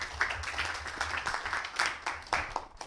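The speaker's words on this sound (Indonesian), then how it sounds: "Tepuk tangan untuk kalian semuanya." Students in a classroom give a round of clapping, a faint, loose patter of individual hand claps with uneven rhythm lasting a few seconds.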